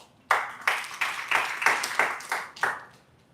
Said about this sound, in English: Let's first clap for Viola.